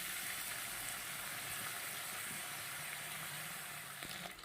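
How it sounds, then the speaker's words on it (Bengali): Prawns fry in a pan with a steady, close sizzling hiss that runs unbroken throughout, loud and even, with no talking. "চিংড়ি মাছটা ভালো করে ভাজতে থাকি"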